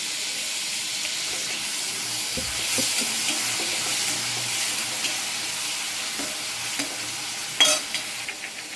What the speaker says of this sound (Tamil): அந்த தக்காளியும் வந்து இதில் சேர்த்து நல்லா வதக்கி விட்டுக்கலாம்